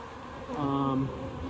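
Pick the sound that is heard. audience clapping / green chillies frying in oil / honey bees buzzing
honey bees buzzing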